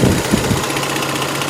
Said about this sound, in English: Oh, we got radiator fanage. Low speed, and it just shut off.